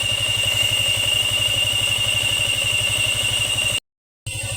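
A Yamaha Sniper motorcycle with a noisy water pump and an oxygen sensor error idles in a steady, even pulse. Its radiator fan runs as a constant whir over the engine, and the sound cuts out briefly near the end.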